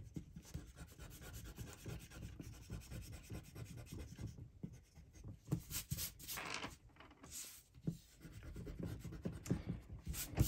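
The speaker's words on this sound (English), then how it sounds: "Let's go ahead and erase some of these lines that we don't need." An eraser rubs across paper to remove pencil lines, a soft, close, continuous scrubbing with short strokes, faint and alone.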